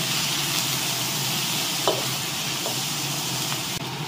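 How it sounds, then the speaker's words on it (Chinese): Pork spare ribs and ginger slices sizzle steadily in hot oil in a wok, a close, even frying hiss with a few faint scrapes and clicks of stirring. "起锅烧油，下两把角，放入姜片，下入洗净的大排骨"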